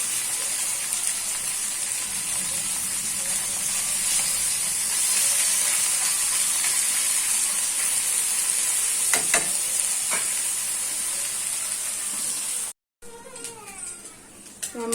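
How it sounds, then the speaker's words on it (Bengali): Fish frying in a pan gives off a steady, loud sizzling hiss that runs nearly throughout, with a few faint clinks around the middle and a brief cut near the end. "মাছগুলো আমি সব ভেজে নেব"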